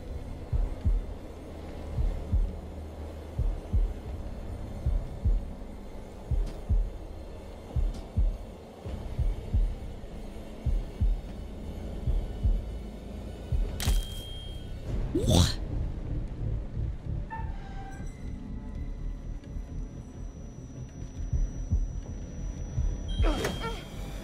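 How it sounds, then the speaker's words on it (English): Heartbeat from the video game The Dark Pictures Anthology: The Devil in Me, a steady low double thump repeating under a dark ambient hum, with a few louder sweeps partway through. "This is the first game I've never been able to do the heartbeat thing."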